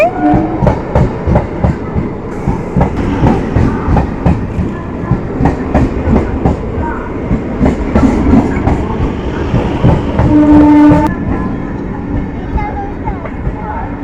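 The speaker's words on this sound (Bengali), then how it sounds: "দুই দিকে দুটো ট্রেন যাচ্ছে" Two trains pass on rails in opposite directions, giving a steady, loud clattering rumble with repeated wheel clicks throughout and a brief squeal near the end, with voices faintly heard beneath.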